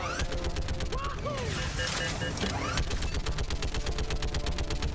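Turret gunfire in Mass Effect 3, a loud, relentless rapid-fire stream of shots with a fast regular rhythm filling the whole stretch, overlaid by electronic whines and game effects.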